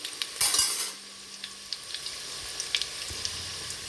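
Onion pieces, green chilies and ginger-garlic paste frying in hot oil in a kadai, a brief loud sizzle burst as they go in, then light stirring clinks and soft crackling, with no talk.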